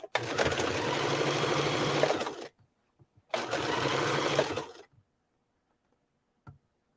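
A sewing machine stitching a garment runs in two steady bursts of rapid mechanical chatter, each a couple of seconds long, separated by silence, with a faint click near the end.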